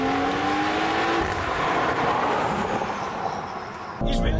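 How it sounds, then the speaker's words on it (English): BMW X3 M40i with an MHD Stage 2+ tune, about 480 wheel horsepower, accelerating hard at full throttle; a loud, steady engine roar fills the whole stretch, with a brief change near the end. "I'm gonna floor it again and it just takes off."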